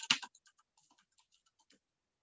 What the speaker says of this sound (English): start typing FreeBSD for the name